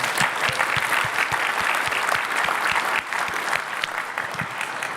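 A conference audience applauds at a tech talk about debugging clusters, steady, dense clapping from many hands that holds at an even level throughout.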